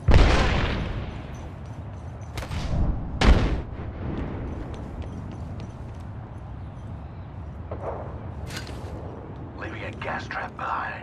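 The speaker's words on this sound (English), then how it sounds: "Incoming grenade." Grenade blasts and gunfire in the game Apex Legends: a loud boom up front, then further sharp shots and thuds over a low rumble, with a character's voice calling out between them.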